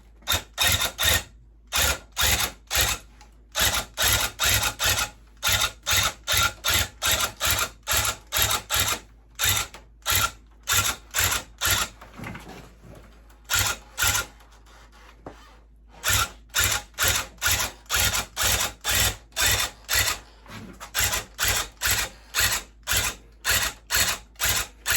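Navy blue yarn being punched into a rug with a tufting gun: fast, loud mechanical rattling bursts in repeated on-off runs, with a brief quieter pause midway.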